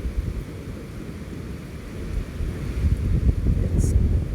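Low rumbling thunder rolls through a night rainstorm among swishing trees, a steady deep roar that swells toward the end, with wind noise on the microphone.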